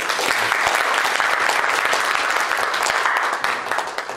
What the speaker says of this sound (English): Pastor Carter, would you mind just raising your hand so that we can give you a round of applause?